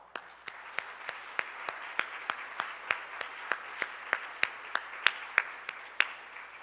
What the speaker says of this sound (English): our ground team volunteers who deserve a round of applause